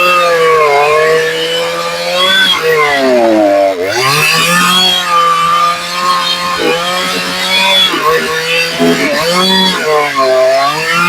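A Husqvarna G288 chainsaw with a dull chain chews through a wet log, its loud engine droning steadily throughout while the pitch sags and recovers repeatedly as the bar bogs down under load.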